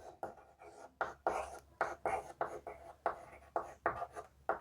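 Chalk or marker writing on a classroom board, a run of short scratchy strokes in an uneven rhythm, close and fairly quiet.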